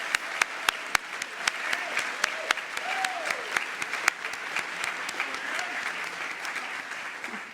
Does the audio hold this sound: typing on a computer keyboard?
no